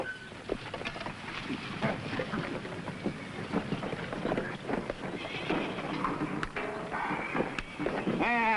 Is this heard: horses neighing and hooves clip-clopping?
yes